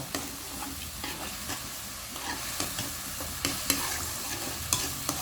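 Korat stir-fried noodles sizzling in a pan as more oil goes in, with brisk rhythmic stirring and scraping over a constant fry hiss, no talking.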